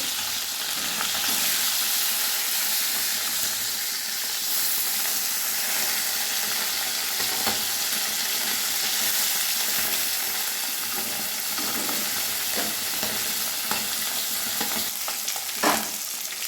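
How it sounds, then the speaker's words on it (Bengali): Pieces of river sarpunti fish fry in a pan of hot oil with a steady, close sizzle that runs throughout, broken by occasional stirring clicks and scrapes and no talking. "একে একে মাছগুলো দিয়ে এবারে মাছে অপর পিসটা ভেজে নেব"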